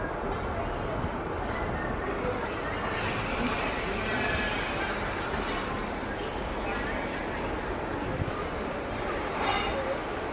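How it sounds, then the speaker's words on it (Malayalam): A train rolls into Madurai railway station at the end of a run from Sengottai, its steady rumble and wheel noise continuous, with brief higher squeals from the rails. "നമ്മുടെ ട്രെയിൻ അതിൻ്റെ ഏറ്റവും അവസാനത്തെ റെയിൽവേ സ്റ്റേഷനായ മധുരൈ റെയിൽവേ സ്റ്റേഷനിലോട്ട് ഇതാപ്പോൾ എത്തിയിരിക്കുകയാണ്"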